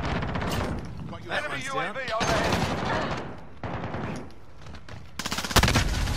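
Heavy gunfire bursts in a first-person shooter match, a dense rapid volley breaking out loud near the end over steady game noise and a voice talking through most of it.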